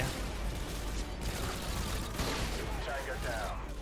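Gunfire in the video game Call of Duty Modern Warfare 2 comes as dense, rough bursts of shots and explosions over a constant noisy battle din.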